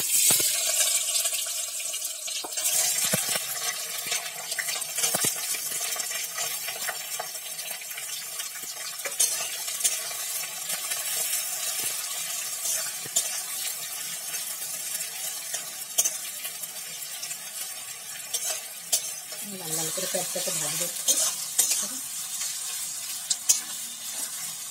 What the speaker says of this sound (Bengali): দু তিন মিনিট ধরে পেঁয়াজটা ভাজলাম, লাল লাল হয়ে গেছে।